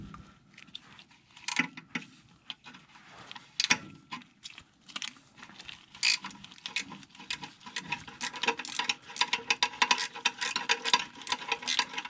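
Wrench working on tight bolts while removing an RC engine, giving repeated sharp metallic ratcheting clicks in bursts that grow denser toward the end, close and fairly quiet with no talk.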